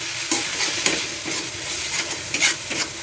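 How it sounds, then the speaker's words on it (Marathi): Salt, chilli and garam masala sautéing in a pan for a dry drumstick vegetable dish: a continuous close sizzle with repeated rhythmic stirring scrapes, fairly loud, no voices. "मी सगळं टाकून घेऊ आता इथे परतून घेते"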